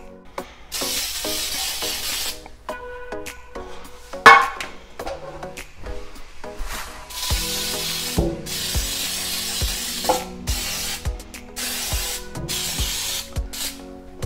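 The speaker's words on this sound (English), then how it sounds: "So just thoroughly spray the pan." Cooking spray hisses onto a baking pan for bread rolls in several bursts of varying length, separated by short gaps and punctuated by clanks and taps of the pan and can.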